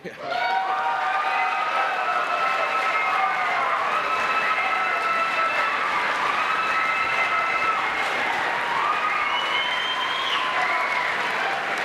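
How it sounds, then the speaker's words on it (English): Applause from the audience in the hall at a televised Republican presidential debate in New Hampshire, a sustained, loud roar of clapping and crowd noise that swells quickly and holds steady throughout, with cheering mixed in. "The applause so loud here in the hall."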